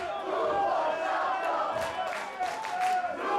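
A wrestling crowd at an NCW Christmas show chants and shouts together for a new champion. The roar is loud and sustained, with rhythmic group yelling that rises and falls, and no single voice stands out.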